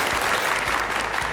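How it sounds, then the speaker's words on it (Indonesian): Dense, steady applause from an event audience in a hall, a continuous wash of many hands clapping at once, loud and sustained without a break. "Beri tepuk tangan yang paling meriah."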